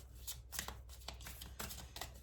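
Oracle cards are shuffled by hand in quick, soft riffling bursts, close and quiet, with no talk.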